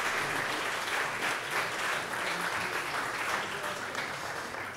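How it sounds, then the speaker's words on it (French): An audience at a conference on innovation and technology applauds a speaker, with even, sustained clapping from many hands heard at moderate distance and holding steady until it eases slightly at the end. "vous pouvez l'applaudir"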